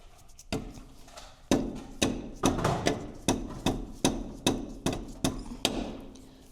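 A hammer strikes metal about a dozen times in a steady rhythm during a Jeep XJ front end tear down, each sharp, close blow ringing briefly before the next.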